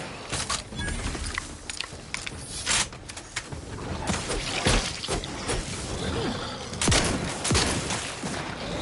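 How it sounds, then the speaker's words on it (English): Shotgun fire in the video game Outer Worlds 2, a series of loud, sharp blasts spaced irregularly across the stretch amid dense game combat noise, with no talking. "Oh man, shotguns are so good in this game."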